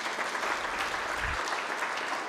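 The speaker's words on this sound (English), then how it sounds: "So could you please very loudly applaud?" An audience at the launch of the 2024 FinAccess household survey findings gives a steady, continuous round of applause, heard at a moderate distance and fairly soft in level.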